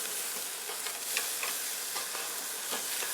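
A butterflied shoulder of lamb sears on a hot grill with a steady, close, bright sizzle and crackle, with small pops throughout and no talk.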